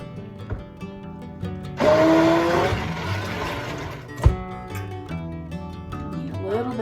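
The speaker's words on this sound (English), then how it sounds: "I'm going to use my immersion blender." An immersion blender whirs loudly for a couple of seconds while pureeing cooked apples into applesauce, set against quiet background music, followed by a sharp knock and softer kitchen handling sounds.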